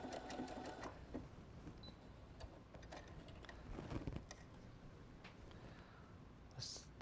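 A Brother Innovis NS80e sewing machine stitches fabric with a quiet, steady mechanical whir and light ticking, running continuously at close range and low volume.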